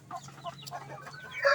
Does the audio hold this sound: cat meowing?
no